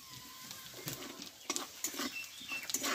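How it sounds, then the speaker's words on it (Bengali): Whole spices frying in hot oil, including cumin, fennel, cinnamon, cardamom, cloves and asafoetida: a close, crackling sizzle with uneven spitting pops, fairly faint, with no talking. "ফোড়নটা একটু ভালোভাবে ভেজে নেব"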